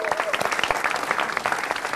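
A studio audience at a stand-up comedy show claps in a dense, continuous burst of applause, fairly close and loud.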